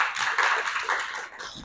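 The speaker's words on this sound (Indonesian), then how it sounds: "Tepuk tangan dulu untuk anak ibu semuanya." A classroom of students claps together in a short burst of steady, fairly soft applause, close by, with no talking.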